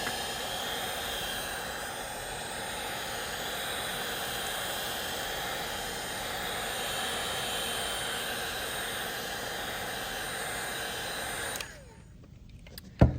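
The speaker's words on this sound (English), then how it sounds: "I'm gonna take a heat gun, and I'm gonna apply heat evenly over that entire heat shrink" A heat gun blows hot air over heat shrink tubing on soldered wires: a steady, even whooshing roar that holds for about eleven seconds, then cuts off abruptly, followed by a brief quiet pause and a sharp click.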